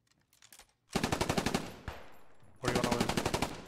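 Rapid automatic gunfire in the World War II shooter game Post Scriptum: a few faint distant shots, then two loud close bursts of evenly spaced rounds, separated by a short pause.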